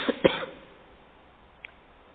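A man leading a Quran recitation lesson gives two quick coughs close to the microphone, followed by a small faint catch of the throat after a short pause.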